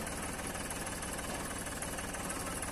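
A Massey Ferguson tractor engine runs in low gear with a steady, dense, knocking drone that holds without a break, loud and close, with no talking.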